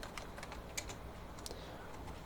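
CSS code is typed on a computer keyboard in a quick, light patter of key clicks, close but soft, with no talking.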